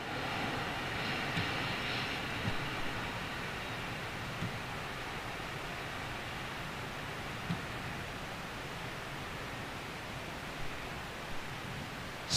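Air Baltic CS300 airliner at London Gatwick, a steady broadband jet roar holding at a fairly constant distance for the whole stretch, faint and continuous, without speech.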